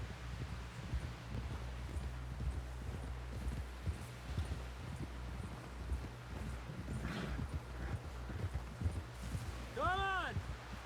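Horse hooves clip-clop in a steady walking rhythm in the Red Dead Redemption 2 video game, set against rustling outdoor ambience, with voices speaking over the hoofbeats.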